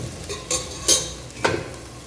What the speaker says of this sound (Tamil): ஒரு ரெண்டு நிமிஷம் மூணு நிமிஷம் வதங்கட்டும்